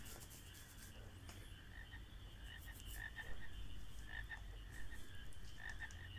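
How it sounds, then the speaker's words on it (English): Frogs croak in a marsh in the video game Final Fantasy 9, many overlapping raspy calls in an irregular chorus over a low ambient bed, moderately loud and without voices. "There must be frogs all over this marsh"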